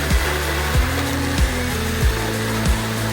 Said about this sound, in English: Have a battery-powered chainsaw with you when you're back here in the backcountry.